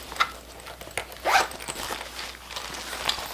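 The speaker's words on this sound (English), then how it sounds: "Open the zipper." A zipper on an Ivy Park bag is pulled open in a few short, close, raspy runs, one longer zip near the middle, with no talking.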